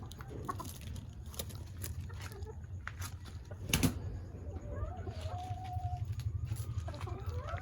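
Hens on a backyard farm cluck softly and intermittently over a steady low rumble, with a brief louder burst midway and a thin rising call near the end.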